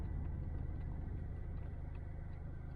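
Smart Brabus Roadster driving on a road, its engine rumbling steadily up close with low-frequency road and cabin noise throughout, building gently with no voices present.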